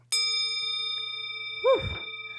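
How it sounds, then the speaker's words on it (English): A singing bowl is struck and rings with a steady, bright, sustained tone and clear overtones. The ring carries on nearly unchanged for about two seconds, and a short vocal sound rises over it near the end. "Oh, how about singing bowls?"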